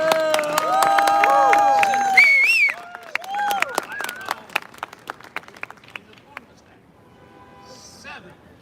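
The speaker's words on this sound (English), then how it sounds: "So once again, give a big round of applause." Outdoor crowd at a rally for Julian Assange outside the British Consulate in New York bursts into loud applause and cheering for about two seconds, then fades to scattered claps and whoops while a voice chatters faintly.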